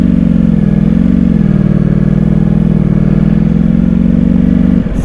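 A newly delivered 2022 Ducati Panigale V4S idles loud and close, a steady deep rumbling throb that holds evenly throughout, with no talk.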